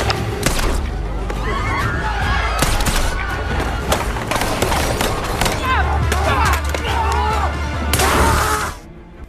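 A film shootout fills the scene with repeated sharp gunshots and heavy thuds in irregular bursts, loud and close, layered over a dense, busy action soundtrack.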